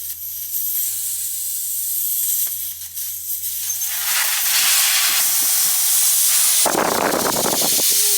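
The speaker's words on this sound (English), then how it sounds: "you'll hear all the air come out shortly" Loud, continuous hissing of air escaping a tire valve, steady for several seconds, then a harsher, rougher burst of rushing air near the end.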